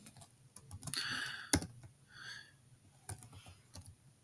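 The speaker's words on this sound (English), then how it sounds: "I'm typing in the first problem." Typing on a computer keyboard while setting up a precalculus problem, quick bursts of clicky keystrokes close to the microphone, with one sharp louder key hit and short pauses between runs.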